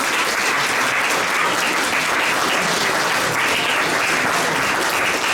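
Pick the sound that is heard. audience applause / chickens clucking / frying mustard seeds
audience applause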